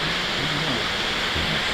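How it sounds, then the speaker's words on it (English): Water tumbling down a small creek waterfall channel gives a continuous close rushing wash, steady and broadband, with no talking over it. "Oh yeah, there's the waterfall channel."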